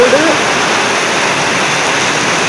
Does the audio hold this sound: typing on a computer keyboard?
no